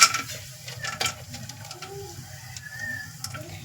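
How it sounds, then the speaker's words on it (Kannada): Cashews fry in a pan for tomato pulao, giving a light crackling sizzle with scattered clicks of a spoon stirring, close, and a faint bird cooing in the background. "ಈ ಗೋಡಂಬಿನೂ ಸಹ ನಾನು ಹಾಕ್ತಾ ಇದ್ದೀನಿ"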